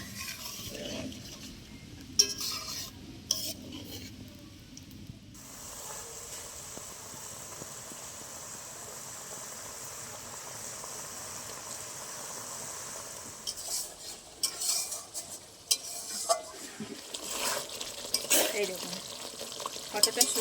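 Prawn gravy with green coconut water cooking down in a pan: a steady low sizzle and bubble runs throughout, broken by sharp scrapes and clinks of a spoon stirring against the metal, louder toward the end.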